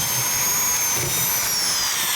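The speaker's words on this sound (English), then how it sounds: "This is Randy's old trusty drill." An old corded drill drives a masonry screw into an expansion anchor, a loud, steady high-pitched motor whine running continuously up close.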